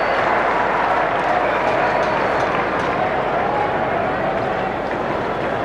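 Stadium crowd at the MCG during an Australia vs South Africa Test cricket match reacting to a misfield, a steady loud roar of massed voices and scattered clapping sustained throughout without letting up.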